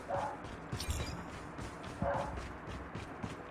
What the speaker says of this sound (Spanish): Está ladrando